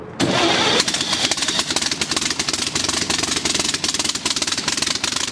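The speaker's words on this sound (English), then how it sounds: "It's a replica that's been made to the exact specs of what their original engine was on" A replica of the original Wright brothers engine starts abruptly and settles into a loud, rapid, uneven chugging run with sharp irregular firing pulses throughout.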